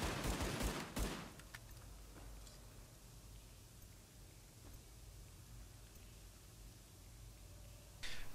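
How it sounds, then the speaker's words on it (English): Gunfire in the shooter game Tom Clancy's The Division: a loud burst of shots opens, then a steady hiss of distant fire and low rumble continues, with one more sharp blast at the end. "Oh, he's shooting me."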